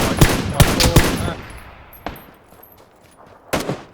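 Rifle fire in the battle royale game PUBG, several sharp, close shots in quick succession, then a single report and another pair after gaps of quiet.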